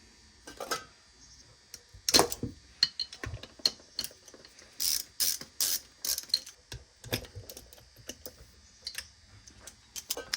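A hand ratchet works loose bolts on a CR85 motorcycle engine, giving irregular runs of sharp clicking close by, with light metallic taps and tool handling between the strokes.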